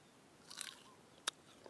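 Someone bites into tamarind fruit and chews, with a soft crunchy bite followed by a sharper single crack, close and quiet against a faint background.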